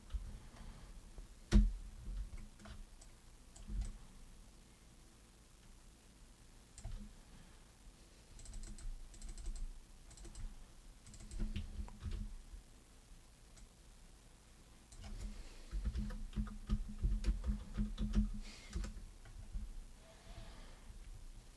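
Faint, scattered clicks from a computer mouse and keyboard during hard-surface 3D modelling, arriving in irregular single taps and short bursts against a quiet room background.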